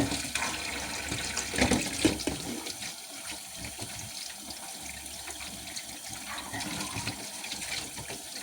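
Water runs steadily from a tap into a sink while something is washed before cooking, a continuous close hiss and splash that swells briefly early on and then settles to an even flow.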